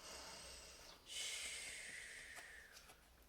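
A soft, breathy hiss like a voice imitating snoring, one long drawn-out exhale after a short pause, faint and close with no words.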